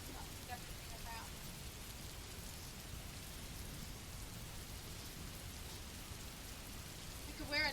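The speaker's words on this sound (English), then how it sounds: "the rain sounds you're hearing are the royalty-free rain sounds" Soft, steady rain recording hisses evenly the whole way through, a low continuous patter with a faint voice briefly at the start and end.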